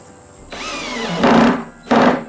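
Power driver whirs up and then pushes 25mm screws into the square wooden corner of a beehive, two short close bursts of rising motor whine, each ending as the screw seats.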